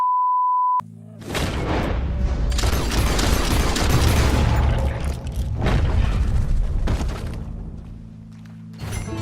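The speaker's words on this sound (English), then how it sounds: "He shot the thing!" A gunshot rings out in Red Dead Redemption 2 during a stranger encounter: a short electronic beep, then a loud booming blast with a long rolling tail and a few further heavy thuds, no talk.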